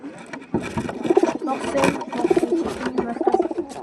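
Chotial Matras pigeons in a loft, repeated throaty coos in quick pulses close by, mixed with light rustling and some talk.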